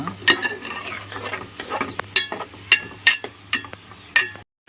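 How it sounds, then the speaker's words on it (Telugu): Tempering in a pan on a village cooking setup, a close, crackling sizzle broken by repeated sharp spoon scrapes and clinks, with a low steady hum beneath and a brief silence near the end. "ముందుగా అయితే తాలింపు పెట్టిందండి అమ్మ."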